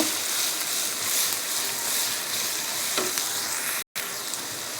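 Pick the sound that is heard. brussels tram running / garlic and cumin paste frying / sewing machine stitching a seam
garlic and cumin paste frying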